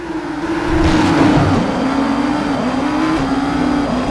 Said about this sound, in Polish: dźwięk samych Audi jest też na najwyższym poziomie i te silniki się różnią